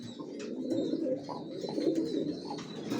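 Racer pigeons coo in soft, repeated low throaty calls close by, with faint chirps and background bird noise, no talking.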